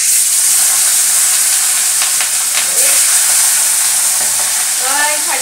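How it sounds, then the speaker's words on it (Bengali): Pieces of fish fry in a pan with a loud, steady, hissing sizzle that fills the whole stretch, and a faint voice is heard briefly in the background. "তো এখন মাছগুলো ভেজে নিচ্ছি।"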